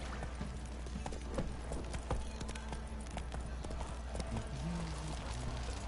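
Roach, the horse in the Witcher 3 video game, trots along with steady clip-clopping hooves up close, the beat carrying evenly over a constant low background rumble.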